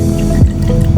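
Agar medium poured in a small stream into water in a conical flask, a loud close gurgling pour with two brief glugging splashes, no speech.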